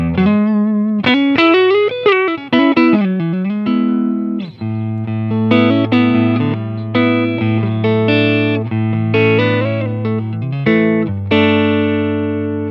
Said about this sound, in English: Switching over to the neck pickup.